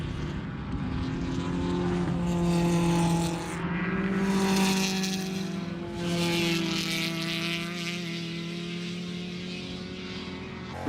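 Onboard the number 290 LS3-powered race car from Moorhead Speedworks, a loud V8 drone rises and falls with gear changes and throttle lifts as the car laps the track, close and continuous.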